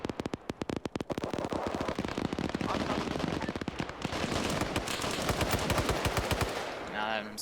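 Heavy bursts of automatic gunfire crackle from up a slope in the Arma 3 military game, loud and dense for several seconds, with rapid rattling volleys layered over one another and a brief quieter tail at the end.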